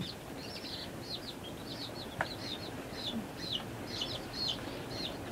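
Serama chicks, the smallest chicken breed, peep in a steady string of high, faint chirps over a continuous noisy background.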